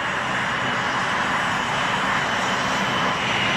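A-10 Thunderbolt II attack aircraft with its engines roaring, a steady, loud, broadband jet rumble that holds unbroken for several seconds with no voices.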